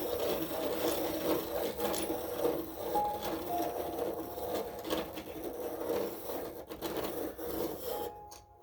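Steady, continuous rasping grind of vintage Prismacolor colored pencils being sharpened, close and fairly loud, running unbroken for several seconds before cutting off at the end.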